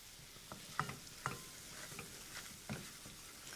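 Flour and spice paste with garlic cooking in a pan, a quiet steady sizzle with soft irregular ticks and stirring taps, close but faint and without talk.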